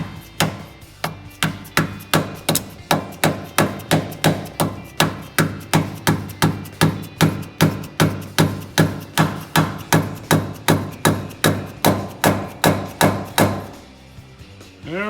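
A tight, greasy bushing is hammered into the front end of a Fox Body, SN-95 or New Edge Mustang, heard as a long, even run of about thirty sharp metallic blows close by, with no talking.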